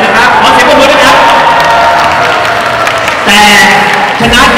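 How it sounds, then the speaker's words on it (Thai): Crowd cheering and clapping at a Thai fan meeting for Kao and Mikey, loud and continuous with whoops and shouts, a brief surge near the end. "ขอเสียงปรบมือด้วยครับ"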